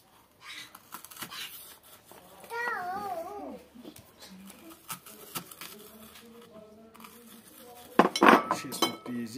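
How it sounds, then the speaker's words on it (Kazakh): Garlic cloves are crushed for fried shrimp, with close clinks and scrapes of metal utensils against dishes, a soft rhythmic patter, a brief whistling tone partway through, and a louder clatter near the end. "Чеснокты еземіз, қуырғанда осы чеснокты қосатын боламыз."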